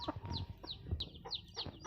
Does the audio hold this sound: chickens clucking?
yes